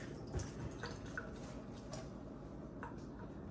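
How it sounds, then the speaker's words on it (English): Water runs out of a balloon in soft drips and small splashy ticks, scattered irregularly over a quiet background, faint and close. "add your water like this, it seems like it's filling up, but look, it's just all going to come out"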